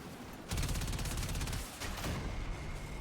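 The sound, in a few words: gunfire in the video game Warframe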